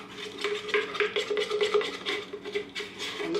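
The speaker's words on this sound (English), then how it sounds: "just stir this together." Blue clay stirred into goat milk soap batter, a quick rhythmic swishing and tapping of a utensil against a container, close and continuous with no voices.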